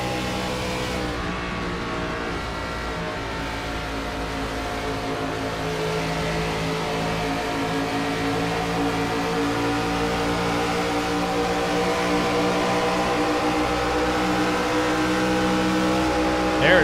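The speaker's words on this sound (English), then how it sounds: "He's definitely got his foot in the throttle now." An IROC race car at Charlotte accelerates at full throttle, its engine a sustained, strongly pitched drone that grows gradually louder and rises slightly in tone over the run.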